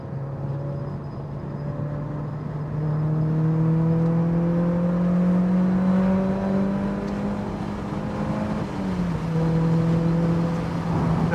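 Mazda MX5 Mk3 with BBR Super 200 engine upgrade accelerating to overtake on the road, a steady, rising engine drone heard from inside the car, holding strong through the revs with a brief dip before pulling again.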